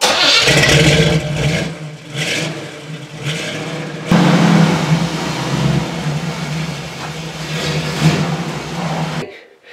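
A Jeep engine cranks and catches in a garage, then idles and revs with a steady low rumble, loud and close, before cutting off near the end.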